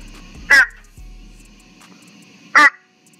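Two loud, harsh croaking frog calls about two seconds apart, with a faint click between them, in an otherwise quiet setting.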